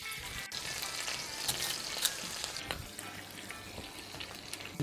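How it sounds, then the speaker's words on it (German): US beef teres major sizzles as it sears in a braising pan, a steady, fairly quiet frying crackle with small pops and no voices. "Und jetzt setzen wir das vorsichtig zum Anbraten in die Schmorpfanne."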